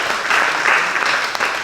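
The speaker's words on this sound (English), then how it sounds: "Give yourselves a round of applause." A workshop audience claps in a steady, dense round of applause. The clapping sounds close and fairly loud, holds level throughout the short burst, and has no talk over it.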